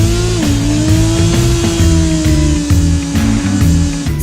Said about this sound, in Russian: Для того, чтобы сорвать переднее колесо в Burnout, необходимо выжать сцепление.